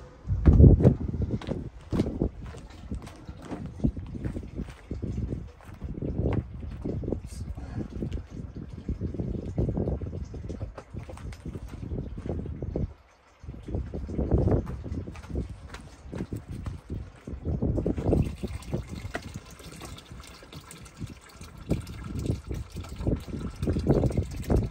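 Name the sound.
portable off-grid lightweight washing machine running with water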